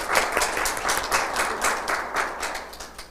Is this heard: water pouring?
no